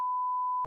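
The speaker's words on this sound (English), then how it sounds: "your phone rings like a Europe one. Like a Europe phone." A single steady electronic tone rings from a phone with a European-style ring, loud and unbroken for most of a second before a brief burst of noise cuts in at the end.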